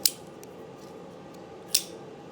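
A Milwaukee Fastback folding knife, a budget blade, snaps open with a crisp metallic click. A second click follows about two seconds later, and both are close and sharp against a quiet room.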